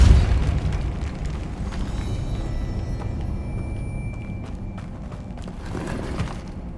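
A deep booming spell blast from Depulso in Hogwarts Legacy hits hard at the start, then fades into a long rumbling, crackling wash of debris and ambience.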